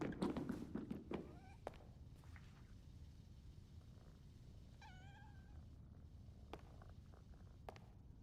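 A cat meows in the video game PowerWash Simulator 2: a few short, rising meows at moderate distance over a steady low background, with a couple of soft thuds and footsteps around them.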